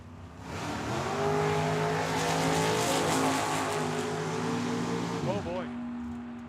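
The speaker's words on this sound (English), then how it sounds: "This is a drag race." Drag race cars, including a 1940 Chevy and a 1966 Plymouth, roar down the strip at Tucson Dragway, a loud sustained engine howl with rising harmonics that shifts in pitch as they pass and fade, under an announcer's voice.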